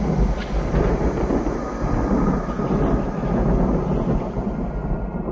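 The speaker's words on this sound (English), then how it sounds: "You know I don't like thunder." Low rolling thunder rumbles continuously through a stormy night scene in a zombie horror film, a deep steady roar filling the whole stretch without talk.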